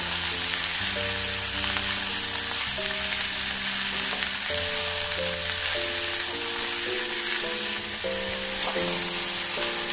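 Young jackfruit and drumstick pieces fry in a wok with already-browned potatoes, giving a steady, close sizzle for the whole stretch while a tuneful melody plays underneath.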